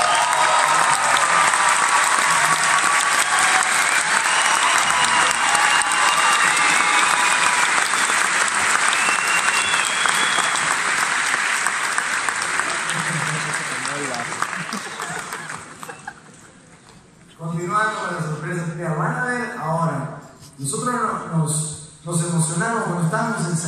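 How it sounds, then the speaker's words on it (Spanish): A concert crowd gives a loud, dense round of applause with some cheering, holding steady for about fifteen seconds before fading, after which someone speaks into a microphone with light laughter around him. "quiero pedir un fuerte aplauso para el señor Eftir Suárez"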